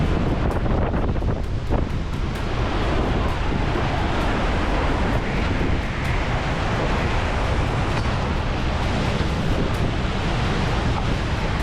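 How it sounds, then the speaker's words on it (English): Heavy, roaring wind buffets the microphone without letup, blending with a dense wash of pouring rain. "Pretty big front of rain."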